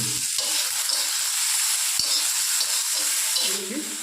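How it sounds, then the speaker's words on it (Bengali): Meat frying in a little oil in a pan, a steady close sizzle running throughout with occasional stirring scrapes and a soft knock, no talking. "তো আমরা এবার মাংসটা ভেজে নেব।"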